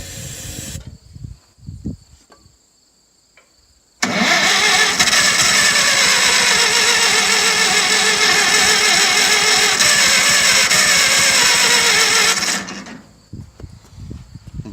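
A stalled engine whirs and cranks continuously for several seconds after a battery charge, loud and steady, then cuts off, with quieter mechanical clicks and shuffling before and after.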